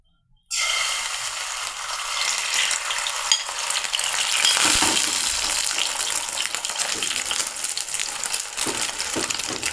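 Egg cracked into hot oil for egg paratha bursts into a loud, close sizzle after a short silence, then keeps crackling and spitting steadily throughout.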